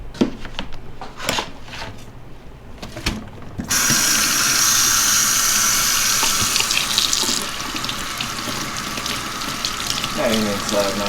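A tie-dyed deep purple and blue violet tee is rinsed under a running warm tap, with a burst of gushing water into the sink after some handling and clicking, staying loud and steady.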